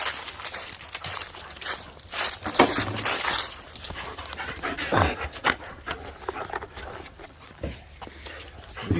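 Several dogs pant heavily and scamper about, paws scuffling and claws tapping on the ground, with occasional whimpers and bumps, close and busy throughout.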